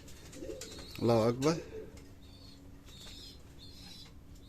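Australian pigeons in a loft coo softly and flap their wings in a brief burst, while a voice speaks loudly over part of it.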